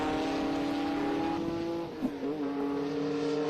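A race car, from an enduro event with air-cooled Porsches, roars steadily past on the track, its loud engine tone holding high and then dipping and shifting as it goes by.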